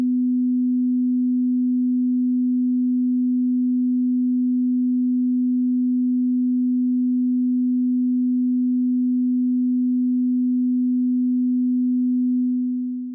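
A pure sine wave test tone used for ear training holds one steady low-mid pitch for about thirteen seconds, clean and constant, then fades out at the end.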